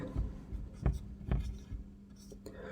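Chalk or marker writing on a board during a maths lesson, with a few soft taps and strokes spaced apart, close and quiet, and faint voice in the background.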